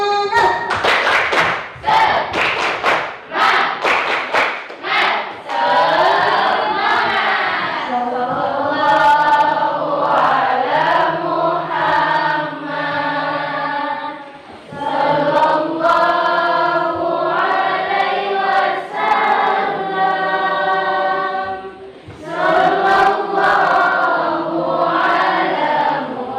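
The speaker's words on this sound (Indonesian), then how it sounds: "mari kita tepuk semangat" A classroom group does a rhythmic spirit-clapping chant, tepuk semangat, with patterned bursts of claps mixed with loud unison chanting voices, repeating in several rounds.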